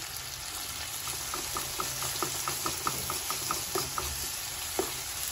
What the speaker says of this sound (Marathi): आता आपण आलं लसणाची पेस्ट घालूया।